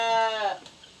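A sheep bleats once at an outdoor resort farm in Panglao, Bohol, a loud, close, wavering call very like a goat's that fades out after about half a second.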